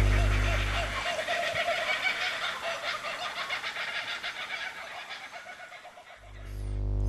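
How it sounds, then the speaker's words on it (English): A kookaburra calls at daybreak, its chattering, cackling laugh running steadily and fairly loud for several seconds over a low background rumble, with no talk. "This is the sound of the kookaburra."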